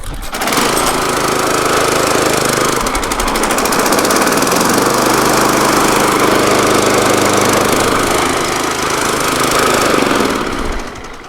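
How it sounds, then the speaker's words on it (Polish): A Wolf Garten Scooter SV4 riding mower engine runs loud and steady while still cold, with a shift in its low drone as the blade clutch engages partway through, continuing without pause. "włącza nam samo sprzęgło noża, co da się nawet usłyszeć"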